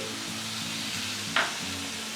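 Soya chunk pulao sizzles steadily in a pan, and a short hiss flares up midway as a little water goes in.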